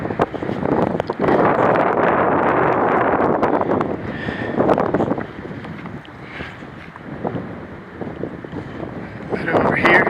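A strong gust of wind buffets the microphone by a meadow in the Hunter-Fryingpan Wilderness, Colorado, with low rumbling roar, easing off midway and picking up again at the end.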